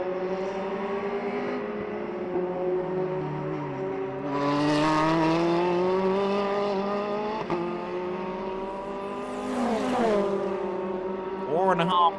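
Classic race cars at the Jarama circuit roar past, engines sustained and rising in pitch under a commentator's continuous voice, with louder surges as cars pass and brief tire noise near the end.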